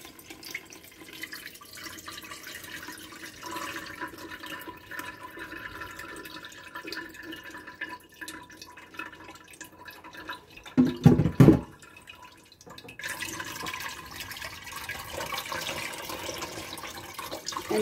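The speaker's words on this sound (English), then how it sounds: "now I'm just going to pour this milk into this bag, and it'll strain out anything that needs straining." Milk poured into a straining bag while making rainbow pumpkin Alfredo, a soft, steady liquid trickle with a brief louder splash near the end, no talking.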